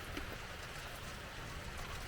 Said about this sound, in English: hiding away from the rain.